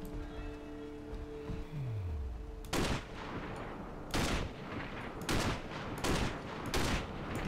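Bursts of enemy gunfire in the Sniper: Ghost Warrior video game, a series of loud, sharp volleys repeating roughly every second after an opening stretch of low hum, with no talking.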